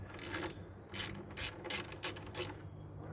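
A ratchet wrench works loose fuel tank bolts on a 1984 Honda ATC 125, with about six quick bursts of clicking separated by short pauses, close and moderately loud.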